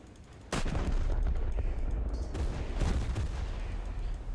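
Heavy naval cannons boom in War Thunder, French warships of 1916 to 1930 trading fire: sharp loud blasts with rumbling, overlapping gunfire and crackling echoes, one big shot opening and more following close behind.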